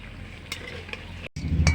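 Bottle gourd peel pakoras frying in hot oil give a soft continuous sizzle with a few light clinks of a spoon or pan, briefly cut off before a louder burst of sizzling.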